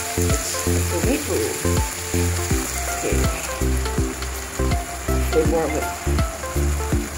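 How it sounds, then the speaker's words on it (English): Prego tomato sauce pours into a hot pan for spaghetti with shredded carrot, bursting into steady loud sizzling and frying with stirring scrapes, while a voice speaks briefly over it. "Now I'm adding our prego, it's a traditional sauce. It's tomato."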